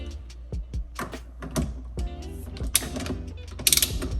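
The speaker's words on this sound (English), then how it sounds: "Torque spec on this bad boy, it's 27. So I got my wrench here on 27." Torque wrench ratcheting as a carbon fiber steering wheel is tightened down, close mechanical clicks in uneven bursts ending in a sharper cluster.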